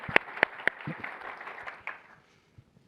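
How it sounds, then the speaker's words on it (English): Applause for a team at a corporate innovation day event starts with a few sharp, distinct claps over a soft patter, then thins out and fades to near silence within about two seconds. "please, let's give a round of applause for a team that I feel very proud of"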